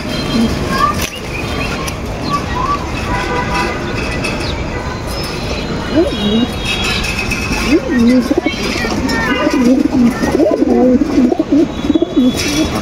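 Teddy pigeons coo repeatedly, close by, in soft rolling calls that grow busier toward the end, with someone talking over them and a faint hum of background noise.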